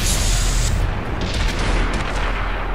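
A tank cannon fires at an enemy E-75 in a video game from a Leopard 1, a heavy boom followed by a rumbling tail and scattered crackles of distant battle, loud and continuous with no talk.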